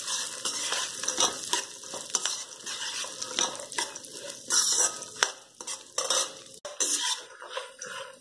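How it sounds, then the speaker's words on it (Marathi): Cashews, almonds, pistachios and walnuts roasting in ghee in a pan for dry fruit barfi, a close, continuous crackling sizzle broken by scraping stirs of a spoon against the metal. "ते बघा चटचट आवाज यायला लागलं, छान भाजत."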